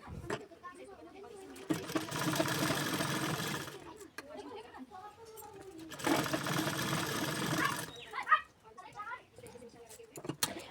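Sewing machine running double stitching on a daily-wear katori blouse, two loud sustained bursts of rapid whirring separated by pauses, with someone speaking softly in between.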